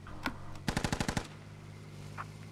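Rapid burst of about seven gunshots from a tank video game, loud and close, preceded by a single earlier shot, with quiet game ambience around them.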